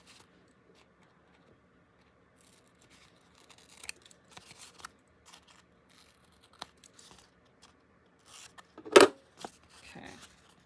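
Scissors snip off a corner of paper in an old, worn journal: quiet scattered cuts and rustles, then one sharp, louder snip near the end followed by a few softer clips.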